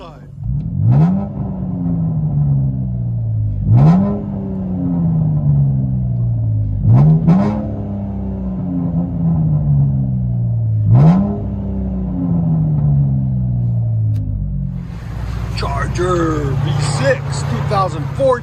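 Loud exhaust of a 2019 Dodge Charger 3.6L V6 heard from inside the cabin, with four or five sharp revs that rise and fall back to a deep idle rumble, while people talk over it near the end.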